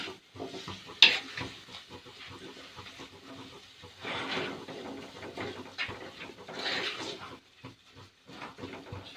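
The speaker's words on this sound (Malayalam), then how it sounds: "നന്നായിട്ട് വഴറ്റി എണ്ണയ്ക്കകത്തിട്ട് നന്നായിട്ട് മൂപ്പിക്കണം." Spices sauté in oil for a moda fish curry, heard as soft, uneven sizzling broken by irregular stirring scrapes, with a sharp clink near the start and brief lulls between strokes.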